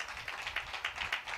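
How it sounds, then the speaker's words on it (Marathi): A church congregation claps together in a quick, fairly even rhythm of hand claps, faint and somewhat distant, with no speech over it. "आपण त्याच्याकरता टाळ्या वाजून त्याला धन्यवाद दिला पाहिजे."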